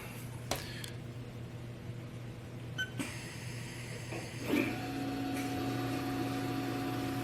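A Haas VF-2 CNC milling machine spins its spindle up to 1,000 RPM, a couple of clicks and a chime followed by a steady mechanical whine and hum that holds to the end.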